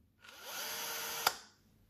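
A cordless drill's motor whirs for about a second as the keyless chuck tightens onto a drill bit, ending in a single sharp crack before the sound fades out, close and alone.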